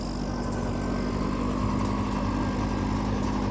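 A Massey 9500 4WD tractor of about 50 hp runs steadily under load while pulling a super seeder through straw. Its engine gives a constant, close, loud drone for the whole stretch, with no talk over it.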